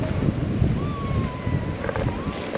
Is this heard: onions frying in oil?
no